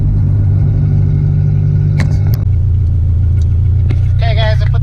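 A K24A2-swapped Acura Integra driving, heard from inside as a steady, loud low engine drone and road rumble with a few brief clicks and rattles and a short high whine near the end.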